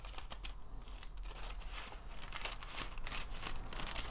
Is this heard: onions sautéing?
no